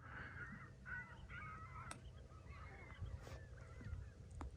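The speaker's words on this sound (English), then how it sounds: "Some birds over there." Several crows caw at a distance in a quiet outdoor setting at Fort Cobb Lake, irregular calls over a low steady hum.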